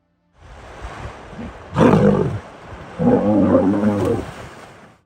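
Lions roar in water while a hippo attacks, giving two deep, loud roaring bursts separated by a short pause, over a low background rumble with no talk.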